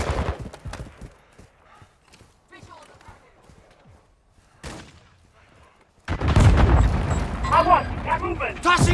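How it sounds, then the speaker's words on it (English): A flash grenade goes off in Call of Duty Modern Warfare 2: a sudden loud burst about two-thirds through, followed by a dense roar of gunfire and explosions, after quieter scattered shots and thuds. "Throwing flash grenade."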